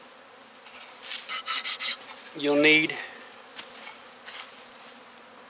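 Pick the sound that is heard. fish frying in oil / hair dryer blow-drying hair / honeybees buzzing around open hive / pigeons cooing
honeybees buzzing around open hive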